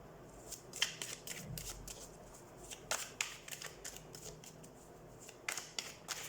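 Tarot cards are shuffled and drawn in quick, crisp bursts of riffling and flicking, soft and close, spread irregularly across the moment with a faint low rustle between.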